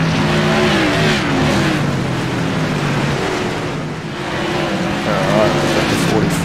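Modified race cars lapping Lanier National Speedway, a steady loud drone of engines rising and falling as they circle, with commentary running over it.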